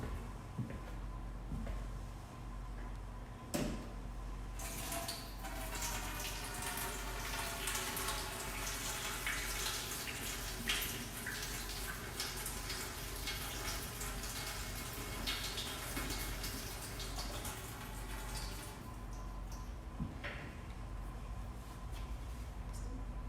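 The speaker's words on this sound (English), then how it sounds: "we're gonna go get our hands washed while everybody's checking in" Tap water runs steadily at close range while hands are washed, a continuous broadband splashing with occasional knocks and clatter from a sink or cupboard.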